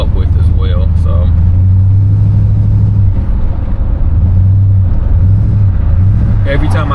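A 1973 Chevrolet Caprice engine accelerates with a loud, steady low rumble inside the car, rising in pitch in stretches, while someone talks over it.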